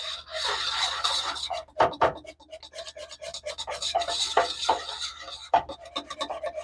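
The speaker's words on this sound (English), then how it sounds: "As long as I keep stirring it." A spoon scrapes and rasps around a pot of maple glaze cooking on the stove, in a steady irregular rhythm of close rubbing strokes with no talk.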